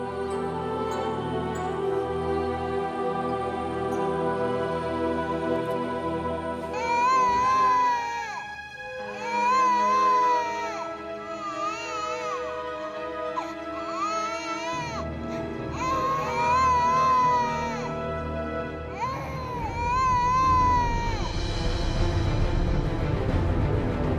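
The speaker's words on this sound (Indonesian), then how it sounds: "Kok aku seperti mendengar suara bayi nangis ya?" A baby cries in a dramatic indoor scene, the wails rising and falling in long strained bursts after a quiet musical opening, fairly loud and close over a soft music bed.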